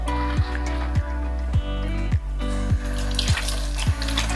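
Running tap water splashes steadily into a sink while a makeup sponge is washed, with rhythmic squeezing pulses roughly every half second over the continuous flow; no talking.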